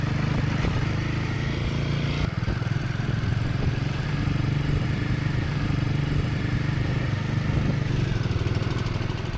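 Motorbike engine droning steadily as it rides into Padum, a Himalayan town, a continuous close mid-pitched hum with wind rush and no pauses.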